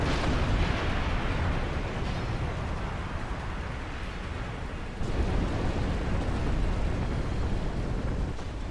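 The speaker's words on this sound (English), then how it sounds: "What is it that is creating such a huge explosion?" A huge canister explosion in Final Fantasy X, a dense, roaring blast of broadband rumble that stays loud and sustained throughout, with a slight surge midway.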